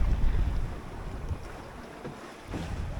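A 21ft home-built sailboat under full working sail on the Atlantic at sunset, heard as heavy wind buffeting and rushing water against the hull, loud and continuous with no talk.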